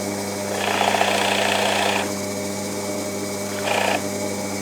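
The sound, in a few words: pillar drill cutting a rebate with 15 mm drill bit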